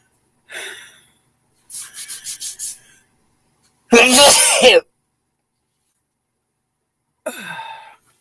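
Several sharp, breathy bursts sound at intervals, including one loud forceful expulsion in the middle, like sneezes and sniffles close to the listener.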